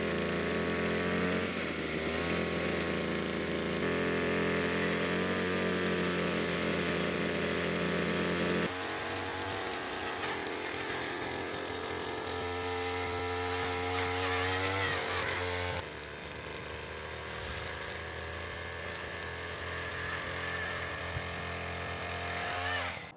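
A power drill whirs loudly and continuously, its motor pitch shifting as it bores holes into lawn soil, with no voices.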